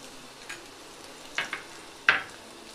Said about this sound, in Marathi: आता आपलं तेल तापलेलं आहे, मी ह्याच्यामध्ये 1/2 चमचा एवढा लसूण घालते आहे